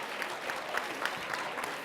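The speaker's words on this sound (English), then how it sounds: "can I just say a huge round of applause again for the HIP team" Conference audience gives the HIP team a round of applause, a soft, steady patter of many hands at a moderate distance, with individual claps popping out at a loose rhythm.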